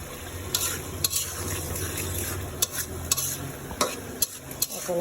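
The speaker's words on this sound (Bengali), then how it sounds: "এখন আমি ভাজা মাছগুলি দিয়ে দিচ্ছি।" Fried snakehead fish going into a pan of spice paste cooked down with chilli, salt and a little water, a bright sizzle punctuated by sharp spatula scrapes and knocks against the pan, no talking.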